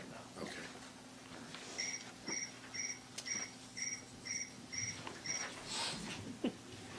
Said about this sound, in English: Think we have an issue with crickets in the building?